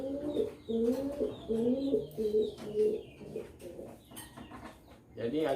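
A pigeon held in the hand coos repeatedly in soft, throaty rolling phrases, close by, with a few faint handling rustles between calls.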